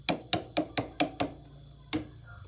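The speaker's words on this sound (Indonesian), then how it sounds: "kita gedor sedikit ya" Hammer blows on the rear lever of a Honda Astrea 800 motorcycle engine during seal replacement: six sharp metallic knocks in a steady rhythm, a pause, then one more strike, over a faint steady hum.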